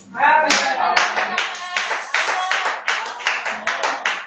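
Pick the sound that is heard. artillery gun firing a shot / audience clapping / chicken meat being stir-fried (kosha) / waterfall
audience clapping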